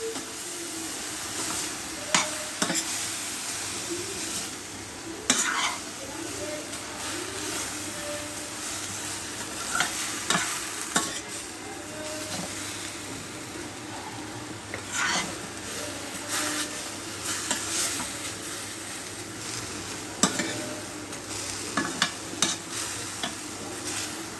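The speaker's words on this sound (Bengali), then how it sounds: "এখন নাড়াচাড়া দিয়ে ভেজে নিতে হবে।" A spiced brinjal chop mixture fried and stirred in a pan gives a continuous close sizzle, with repeated scraping strokes and occasional clinks of the spoon against the pan at an irregular rhythm, and no one speaking.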